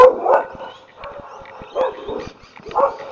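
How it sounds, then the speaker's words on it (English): Two dogs barking in bursts on a residential street during a walk, a few close yips and barks spaced across a few seconds with faint background noise. "Those two bark all the time."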